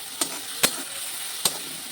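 Ground ginger, cumin, coriander, turmeric and chili powder are stir-fried in a pan, with a soft steady sizzle broken by three sharp spoon knocks against the pan.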